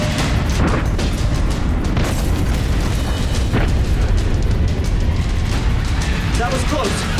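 A torpedo explodes near a submarine in a tense action-movie battle: a loud, sustained rumbling boom that fills the clip with heavy low-end roar and crackling debris, with a few brief sharper bursts along the way.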